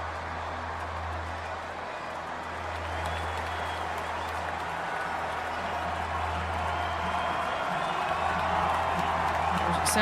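Crowd cheering and applause at a marble race, a steady dense roar that swells slightly louder toward the end, with a low hum underneath.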